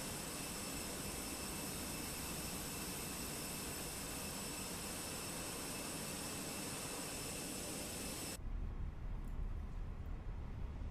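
Airbus A319 jet engine in the MSFS 2024 flight simulator, a loud, steady roar with a high whine that holds for about eight seconds, then cuts to a deeper, quieter rumble.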